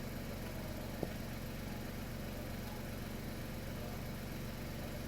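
A Volkswagen Golf 1.0 TSI engine idles with the clutch pedal held in, giving a faint, steady low hum with one brief click early on.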